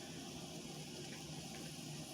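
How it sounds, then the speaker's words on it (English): Anchovy oil poured from a tin into a pan for anchovy pasta, a steady soft liquid trickle with faint kitchen hiss, close and low in level, no talking. "pour all that beautiful, delicious anchovy oil into the pan"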